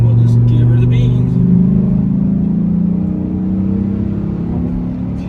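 A 2005 Dodge Ram SRT-10 Viper truck, Commemorative Edition, accelerates hard, its engine note rising in a loud, steady, close-up roar that rumbles throughout with no break.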